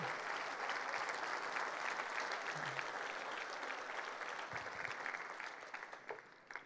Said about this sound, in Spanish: Aplauda al Señor.